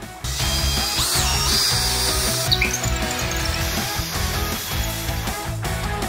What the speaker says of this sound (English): We're gonna bolt this whole thing together.